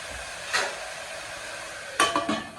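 Onions and tomatoes frying in a pan while being stirred for a green pea kurma, a soft sizzle under two or three brief scraping and clinking strokes of the spoon against the pan.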